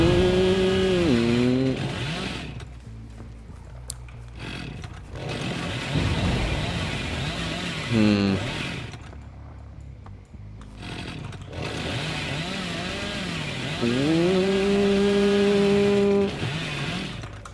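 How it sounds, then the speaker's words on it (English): A chainsaw in the horror video game Dead by Daylight revs in several rising, engine-like bursts, roughly every six seconds, with a voice talking over much of it. "Did they make the chainsaw sound a lot quieter?"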